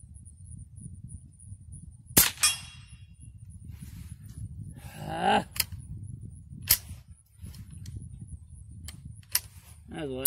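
A Ruger 10/22 .22 rifle fires a few sharp cracks, spaced apart over steady outdoor background noise, with a metallic clatter and faint handling sounds between the shots.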